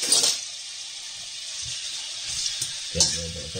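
Stoofvlees beef chunks tipped into a pan of hot oil, giving a steady broadband sizzle with a few soft thuds and a louder burst of frying near the end.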